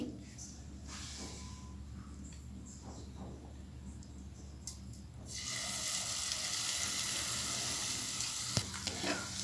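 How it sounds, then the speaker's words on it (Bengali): A quiet pan hums, then a loud, steady sizzle bursts up as potato-and-egg omelette batter hits hot oil and keeps crackling close by. "তেলটা গরম হয়ে গিয়েছে তো এখন আমি এই মিশ্রণটা এতে দিয়ে দিচ্ছি"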